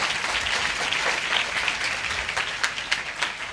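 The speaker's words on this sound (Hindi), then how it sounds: "ताली बजाएं परमेश्वर की महिमा के लिए" A church congregation at a healing and prophecy service applauds, with dense, steady clapping throughout and a few sharper individual claps standing out near the end.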